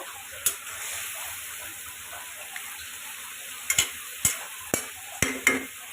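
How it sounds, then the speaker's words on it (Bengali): Catfish and potato pieces frying in a pan make a low, steady sizzle, broken by a handful of sharp, close scraping clicks from a stirring utensil toward the end. "এই যে মাগুর মাছ ভাজে রাখছিলাম, এখন দিয়ে দিলাম আমি। আলু দিয়ে দিচ্ছি।"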